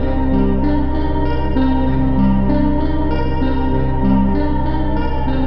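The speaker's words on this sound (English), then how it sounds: "see how it sounds with the new flute sound from the sample" Synthesized flute sample layered with chorus, echo and reverb effects in a horror-style video game tune, playing a sustained, droning melody of shifting held notes at steady loudness with no voices.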